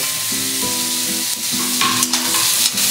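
Finely chopped tomatoes drop into onions frying for a cluster bean bhaji, producing a loud, dense sizzle with occasional stirring scrapes, alongside a faint steady tonal hum.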